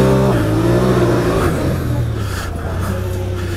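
A Honda Pioneer 1000 UTV engine revving, loud and close, with the pitch climbing and then easing off into a steady lower hum.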